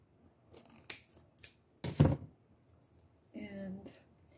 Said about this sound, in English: Cut the little tag.